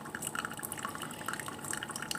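A splash of milk pours into a drink sweetened with caramel syrup, producing a steady, close trickling and dribbling liquid sound that lasts about two seconds, with no talking.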